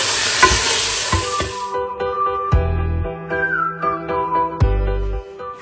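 Chicken pieces added to a hot pan to fry alongside vegetables, giving a burst of sizzling followed by clanks of a utensil and scraping stirs against the pan, with a thin whistling tone lingering underneath.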